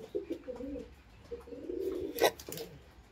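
A female Salara Teddy pigeon makes soft, low cooing murmurs in several short phrases, close and quiet, with a brief flutter or rustle near the end.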